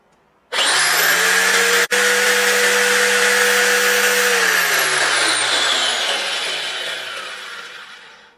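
A Lacela marble cutter starts abruptly and runs at full speed with a loud, high, steady whine, dips for a moment, then keeps running before slowly spinning down toward the end.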